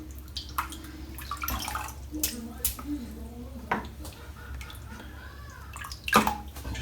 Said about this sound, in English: So let's get this brush wet.